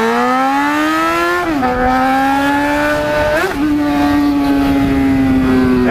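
Loud, close motorcycle engine howling at high revs as the rider pulls a wheelie, the pitch rising steadily, dipping at gear changes near 1.6 and 3.5 seconds, then climbing again.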